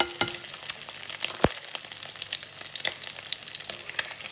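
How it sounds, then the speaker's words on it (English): An egg fries in hot oil in a pan, crackling and spitting steadily at close range, with irregular sharp pops and one loud clatter near the start. No one speaks. "I'm going to add a little bit more oil in there because I want some to be able to just baste the egg with."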